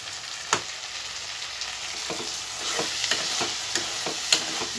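Masala made with curd fries in a pan while being stirred, a continuous close sizzle broken by irregular scraping strokes of a spoon, with no talking.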